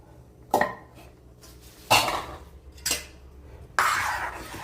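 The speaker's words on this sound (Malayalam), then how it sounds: "മിക്സി ജാറ് കഴുകി നമുക്ക് കുറച്ച് വെള്ളം കൂടെ ഒഴിച്ചു കൊടുക്കാം" A mixer jar is handled during curry cooking, giving four separate, sharp clanks with short quiet gaps between them. No voices are heard.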